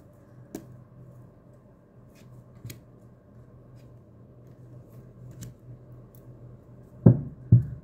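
Tarot cards shuffled for a reading, soft scattered riffles and taps through a quiet stretch, then two louder, fuller shuffling bursts close at hand near the end.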